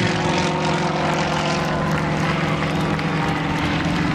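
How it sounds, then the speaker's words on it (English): At an airshow, a steady, loud propeller aircraft engine in slow flight, hanging on the prop, drones continuously with a deep, even hum and buzzing harmonics, no pauses throughout. "He's hanging on the prop and the engine in slow flight"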